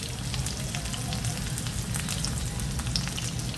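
Tomato pieces, a green chili and garlic cloves sizzle steadily in hot oil, a dense continuous frying hiss with faint stirring, close and alone with no talk.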